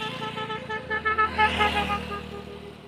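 Car horns honking repeatedly amid steady road traffic in the rain, several overlapping toots rising over the hum, no talking.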